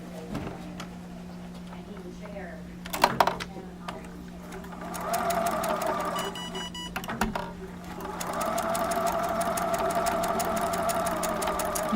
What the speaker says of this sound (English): stitch on that solid line again